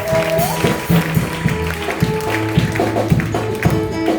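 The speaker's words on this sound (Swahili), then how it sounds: "Wow, pigia Yesu makofi." Church congregation clapping for Jesus, heard as scattered claps over sustained organ or keyboard chords that keep ringing beneath them.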